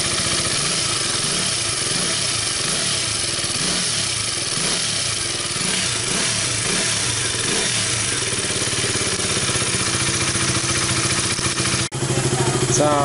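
A KTM RC 200 motorcycle engine runs steadily at idle after a fuel pump hose repair, with a close, continuous mechanical clatter and a brief dip near the end.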